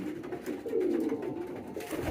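Pigeons coo softly and steadily in a low, rolling burble on a cold winter evening. The birds sound close and are heard alone, with no talking.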